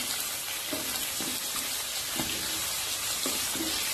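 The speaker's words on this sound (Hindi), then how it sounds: "अब इसमें ये मैरिनेट किया हुआ चिकन जो है जाएगा और इसको अच्छी तरह से भून लेना" Marinated chicken frying with browned onions for a tomato chicken karahi, giving a steady, dense sizzle throughout with a few soft scraping stirs against the pan, no voices.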